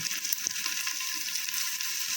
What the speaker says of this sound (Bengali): পেঁয়াজটা ভেজে নেবো ভালো করে হালকা ভাজা ভাজা হয়ে গেছে